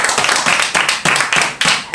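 A church congregation claps in praise, a loud, close burst of rapid handclaps with a rough rhythmic pulse of overlapping beats.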